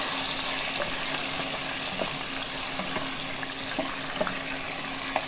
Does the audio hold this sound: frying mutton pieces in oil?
yes